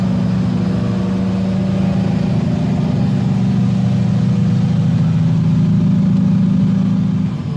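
A Komatsu HD785-7 haul truck's engine revving, a loud deep diesel roar with strong low throb that holds steady and swells slightly before easing at the end, close by with no talking.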